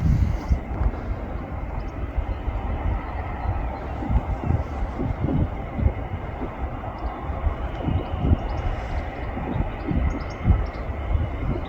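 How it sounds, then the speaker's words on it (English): A Saudia Boeing 787 Dreamliner airliner lands at Manchester, filling the air with a steady, loud broadband roar and low rumble that stays close and continuous throughout, with no talk. "will be a landing of, hopefully, the Saudia Dreamliner"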